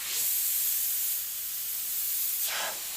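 Airbrush spraying very thin, double-strained gray paint, a steady soft high hiss held for about two and a half seconds, then a brief fresh burst near the end, with no talking.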